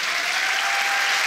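An audience claps steadily at a senior bhangra competition in Australia, a dense, even wash of applause that fills the whole stretch without pause.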